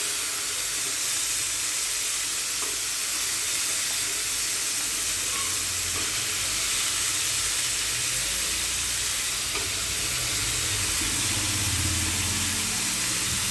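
Chopped beans, carrots and peas fry with tomato in a pan, producing a steady, faint hiss of sizzling with occasional soft stirring sounds and no voices.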